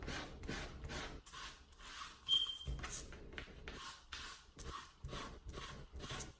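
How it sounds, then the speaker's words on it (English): Quiet, rhythmic rubbing strokes as a cloth wipes fibers off a Cricut cutting mat, soft repeated swishes in an uneven back-and-forth pattern with no talk. "Just keep wiping it off."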